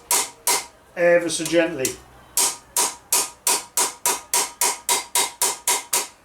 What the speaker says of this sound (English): So, on a reasonably nice hammer, a little ball peen if you can,